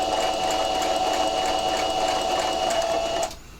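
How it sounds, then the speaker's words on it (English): A sewing machine stitches fabric for a Christmas tree with a fast, steady whirring hum and rhythmic needle ticking, close and continuous for over three seconds before stopping abruptly. "we call it a pivot, where the needle is down and then you pick up the presser foot and you just turn the sewing."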